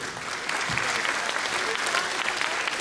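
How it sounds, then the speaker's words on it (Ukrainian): Sustained audience applause at an award ceremony for vocal ensembles, a dense even wash of many hands clapping, with faint voices murmuring underneath. "Ваші оплески."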